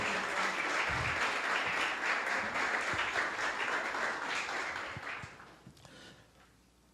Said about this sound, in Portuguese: Olha, aplaudir o Senhor Jesus, meus irmãos.